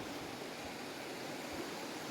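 A river flows steadily past, its broadband rush soft and continuous with no pauses or voices.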